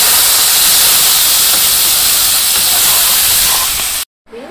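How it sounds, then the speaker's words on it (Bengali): Salt, turmeric and dried chili sizzle loudly as they are sautéed in a village kitchen, a steady close hissing fry that cuts off abruptly near the end. "এখন আমি একটু ভালো করে কষিয়ে নিই।"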